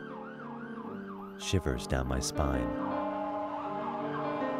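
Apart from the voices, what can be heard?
sirens, maybe an ambulance or fire truck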